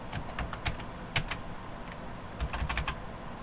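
Keys tapped on the computer keyboard of an HP Pavilion A1410N desktop while moving through its BIOS setup, heard as close, irregular clicks in short bursts with brief pauses, alone without voices.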